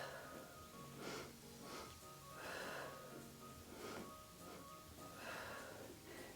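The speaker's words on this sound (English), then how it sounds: "So you probably hear my breathing." Heavy rhythmic breathing during a Pilates toning workout, about five strong breaths in regular cycles, close and loud, with no talking.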